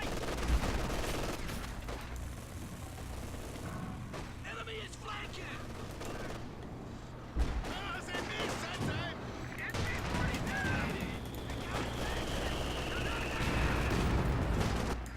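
Battle noise from Company of Heroes 2, with scattered gunfire and mechanical clatter running throughout at middling distance, a heavier thump midway, and a faint voice now and then beneath the continuous din.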